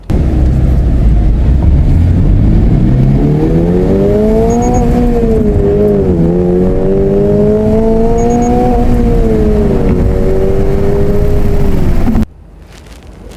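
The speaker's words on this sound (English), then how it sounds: "you can really hear the engine note" A Toyota GR86 engine and exhaust note during a test drive, a loud steady drone that rises and falls smoothly through the revs for about twelve seconds before cutting off abruptly.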